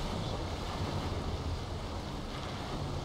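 Stormy ocean waves wash steadily under a boat at sea in Valheim, a dense, continuous roar of water and wind with no voices.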